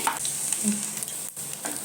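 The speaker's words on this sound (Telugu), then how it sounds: "అలాగే ఎండుమిర్చి కరివేపాకు వేయించుకొని మంచిగా వేయించుకున్నామండి" Dried red chillies and curry leaves fry in hot oil for a tempering, making a brief, close hiss of sizzling with light stirring clicks.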